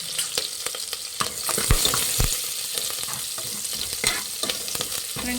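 Mustard seeds, cumin, garlic and curry leaves sizzling in hot oil for bele rasam, a close, steady crackling fry with a spoon stirring and scraping the pan.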